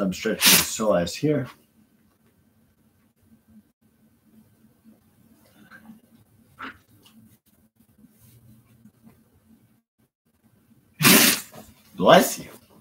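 A sneeze bursts out twice, close and loud, near the end of a quiet stretch during a live stretching session; a person talks briefly before it.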